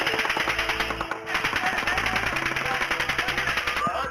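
Rapid bursts of automatic gunfire rattle continuously for several seconds, loud and close, with voices shouting faintly in between.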